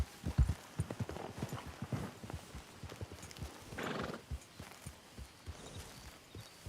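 A horse in Red Dead Redemption 2 clops along with irregular hoofbeats, close and clear, and lets out a whinny near the middle.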